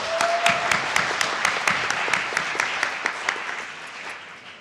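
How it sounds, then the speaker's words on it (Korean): An indoor audience at a Seoul policy forum on elderly day-care services claps steadily in a warm round of applause that gradually thins and fades. "여러분 다시 한번 큰 박수 보내주십시오."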